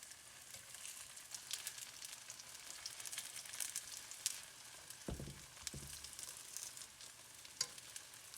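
Slices of Chinese New Year cake (nian gao) brown in an oiled pan over medium heat, a faint, continuous sizzle and crackle with a couple of soft low knocks, and no talking.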